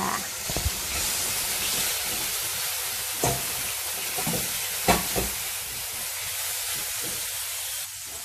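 Fresh shrimp stir-fry in a hot pan, giving a steady close sizzle and hiss throughout with occasional louder crackles and stirring clatters, no talking.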